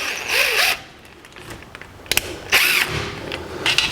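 An upper radiator hose and clamp coming off a 1949 Chevrolet gasser, with loud scraping, rasping bursts and sharp metallic clicks close by.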